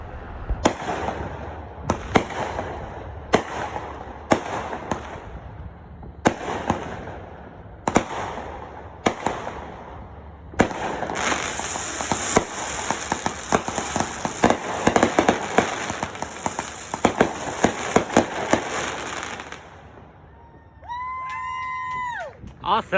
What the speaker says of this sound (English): some neighbors actually shot some fireworks pretty close, and I thought I'd film the little short show